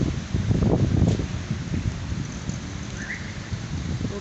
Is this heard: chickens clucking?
no